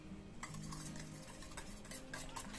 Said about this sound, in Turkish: 1 çay bardağı şeker, 1 yumurta sarısını da ilave ettikten sonra güzelce karıştırıyorum.